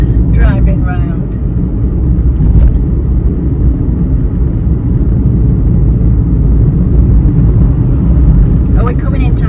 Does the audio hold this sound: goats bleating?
no